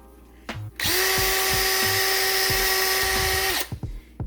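A power drill spins a corroded brake caliper pin against Scotch-Brite during a brake rotor and pad job on a G35 Coupe, giving a steady high whine of about three seconds between clicks and knocks of handling.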